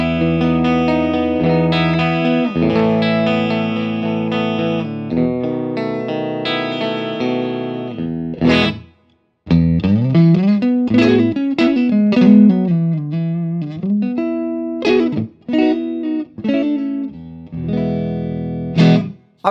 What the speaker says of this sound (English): let's start with my clean tone on an orange Rock Reverb 50 EQ straight up and down on the